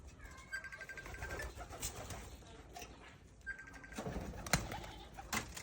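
Soft cooing of Bazi pigeons amid a busy outdoor background, with faint whistling tones and scattered rustles; no one speaks.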